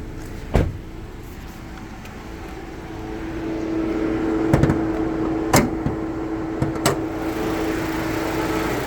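A 2020 Mitsubishi Eclipse Cross ES with a 1.5 litre turbo engine idles with a steady low hum, heard up close. Several sharp knocks and clunks, like a bonnet being handled, punctuate the drone.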